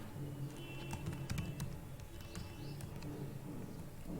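Typing on a computer keyboard during a computer formatting test, a light run of quick, irregular key taps under low room noise.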